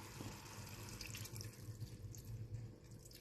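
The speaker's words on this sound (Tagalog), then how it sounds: "Tapos konting tubig" Water poured from a tap into a pan of chicken feet adobo with soy sauce, vinegar and onions, a steady broadband running splash that lasts the whole moment without any talk.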